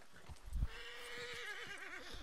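A horse in the video game Red Dead Redemption 2 gives a clear, wavering neigh lasting over a second, preceded by a thud and hoof clops, with no voices.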